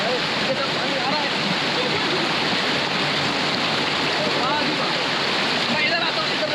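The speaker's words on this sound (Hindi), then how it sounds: "पानी आ रहा है।" Water rushes at a waterfall near Karachi, a loud, unbroken roaring hiss that stays steady throughout, close and powerful.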